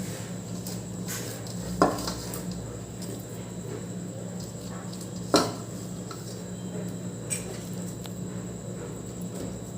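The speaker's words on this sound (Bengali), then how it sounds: "এর মধ্যে ডুবিয়ে ডুবিয়ে দিচ্ছি ভালো করে নাড়াবো এটাকে" Homemade hair oil with aloe vera and herb leaves is stirred in a pot, giving soft sloshing and a couple of sharp knocks of the utensil against the side over a faint background hum.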